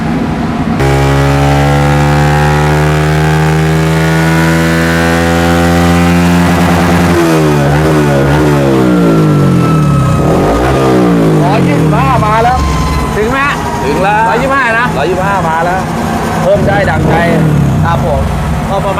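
A tuned motorcycle runs on a dyno, its engine loud and close as it revs hard and climbs in pitch through repeated rising sweeps, with gear changes and a steady roar sustained throughout.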